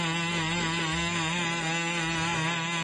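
A loud, steady engine drone with a buzzing, harmonic-rich tone from the gasoline engine of a legged robot, running continuously at close range.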